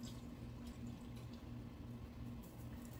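Vegetable stock pours into a soup pot in a kitchen, a faint, steady liquid gurgle with a low rhythmic hum running underneath, and no voices.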